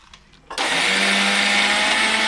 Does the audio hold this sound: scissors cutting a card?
no